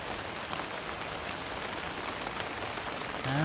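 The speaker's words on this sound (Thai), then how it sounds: "ฝนมันตกเยอะครับ" Heavy rain pours outdoors over a garden of blooming marigolds, making a dense, even hiss that holds steady throughout at a moderate, distant level.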